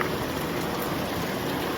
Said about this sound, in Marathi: पाऊस एवढा पडतोय ना बाबा